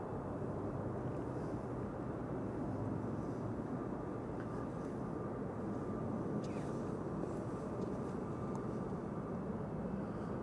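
An airliner arriving at Amsterdam Schiphol Airport on runway 04 gives a constant, fairly distant engine roar that holds steady throughout, with no voices over it.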